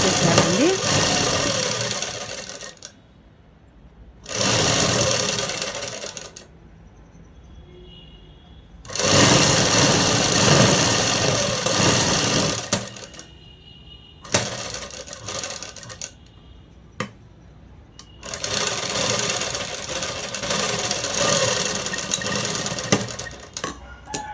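Sewing machine stitching cloth in several bursts of steady rapid whirring, close and loud, with quiet pauses between runs.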